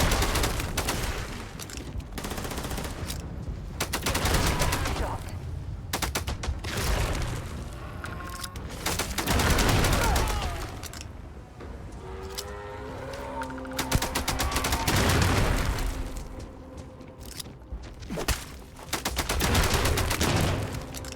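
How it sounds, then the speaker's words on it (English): Automatic gunfire from a heavy gun in a war-machine video game, fired in dense rattling bursts with booming impacts and mechanical clanks across the clip, loud and close. "This gun, with its ability to stagger things, is really good."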